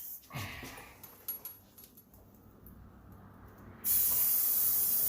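Air escaping from a tire valve on a Husqvarna TS354XD lawn tractor, a loud steady close hiss that starts abruptly after some faint handling noises and continues to the end.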